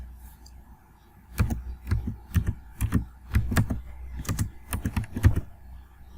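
Fingers type HTML code on a computer keyboard in short, irregular bursts of close, clacking keystrokes with brief pauses between them. A low hum runs underneath, and no one speaks.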